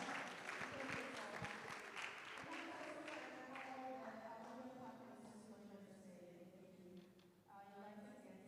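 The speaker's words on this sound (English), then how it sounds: "The committee, please give yourselves a round of applause" The organising committee of a university games launch is applauded by the gathering, clapping strongest at the start and then fading, while voices and cheering carry on over it.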